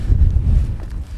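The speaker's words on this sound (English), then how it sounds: "It's quite breezy today. Actually, it's windy." Steady low rumbling buffeting of wind across the microphone on a walking trail at Kings Canyon, Central Australia, loud and continuous, with no voices.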